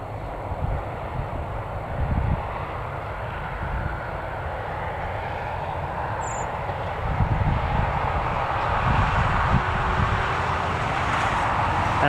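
A Boeing 737-800 airliner at Newcastle Airport gives a steady, broad jet roar with a low rumble, moderately loud and sustained throughout, swelling slightly toward the end, with no talking.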